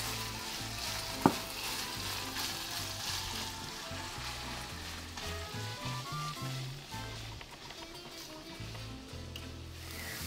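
Beef pieces fry steadily in homemade ghee, giving a continuous close sizzle with soft stirring and a sharp clack near the start, while a quiet low hum runs underneath.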